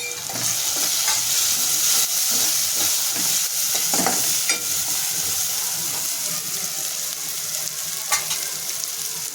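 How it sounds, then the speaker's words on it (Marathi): Goda masala and turmeric sauté in hot oil in a pan for Maharashtrian rajma bhaji. A loud, continuous sizzle and crackle runs throughout, with occasional scraping stirs of a spoon close by. "गोडा मसाला आणि हळद हे सर्व टाकून मी छान परतून घेते"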